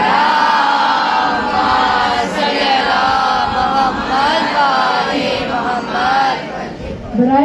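A large crowd at a Shia majlis chants salawat together in unison, loud and sustained, with voices rising and falling in waves.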